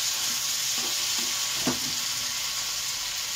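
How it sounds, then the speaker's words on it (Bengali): Green chillies, cumin, ginger and spice paste stir-fry in a pan with a constant close sizzle, a few scraping stirs rising over it, no voices. "কাঁচা লঙ্কা আর জিরে সব দিয়ে ভালো করে কষাবো, সুন্দর করে কষাবো"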